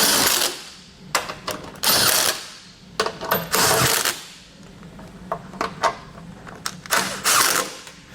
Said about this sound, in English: We can now take our 17mm socket once again and snug all this hardware down.